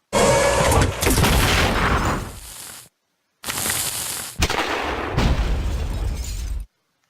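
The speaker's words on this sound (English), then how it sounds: "then I'll use the Plasma Artillery to clear up the board" Plasma artillery blasts from the Battle Nations video game crash in two bursts of loud, booming explosions with shattering crackle, separated by a brief silence.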